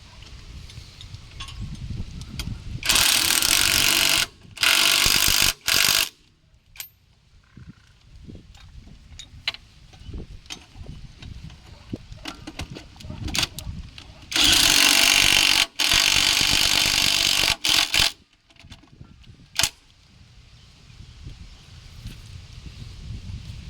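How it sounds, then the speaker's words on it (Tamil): A spanner tightens a bolt during an engine oil change, with loud, harsh bursts of mechanical noise in several stretches separated by quieter clattering and background rustle. "ஸ்பேனர் போடு."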